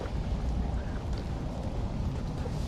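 Heavy rain falls with a dense, loud, steady hiss and low rumble, heard close throughout.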